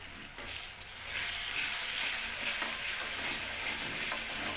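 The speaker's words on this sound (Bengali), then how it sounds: "এর মধ্যে দিয়ে মশলাটা ভালো করে কষিয়ে নিচ্ছে" Spices for chana dal fry and are stirred in a hot pan, with a steady close sizzle and the scrape of a spoon near the start, then unbroken frying hiss.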